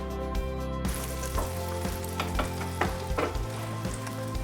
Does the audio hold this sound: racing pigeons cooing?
no